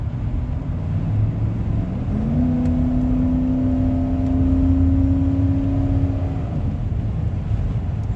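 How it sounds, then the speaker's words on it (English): A 1995 Ford F150 pickup accelerating from inside the cab, a steady engine roar with a rising harmonic tone as it revs up for several seconds, then settling back; continuous and fairly loud with no talking. "Let's go ahead and let's kick this thing down a little bit and see how she accelerates."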